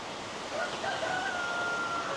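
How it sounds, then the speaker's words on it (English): A cockerel crows faintly in the distance beside a log cottage near a canal lock, a single thin drawn-out call over steady outdoor background noise. "there's a cockerel that keeps crowing"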